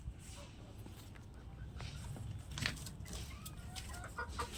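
Small flock of chickens cluck and peck at their feed, soft repeated clucks and scratchy pecking close by, with a few sharper calls and bits of human speech in the background.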